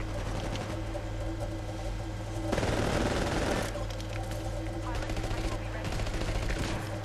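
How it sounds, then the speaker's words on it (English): Auto pistol and shotgun gunfire in a shooter video game, a dense fusillade of shots with a louder burst in the middle over a steady mechanical hum. "shooting him with an auto pistol and a shotgun"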